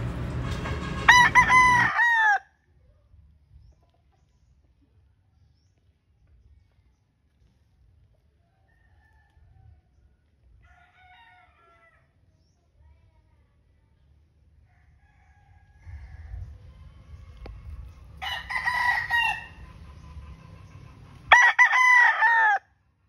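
A pure-blood Sweater gamefowl rooster crows several times, loud and close, with one crow at the start and two more near the end, separated by long quiet stretches and low background rumble.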